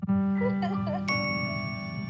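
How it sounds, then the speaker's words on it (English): A NetSpend payment notification chime in a TV ad, a bright electronic ding with a ringing tone that sustains and fades while a voice speaks under it. "NetSpend notification?"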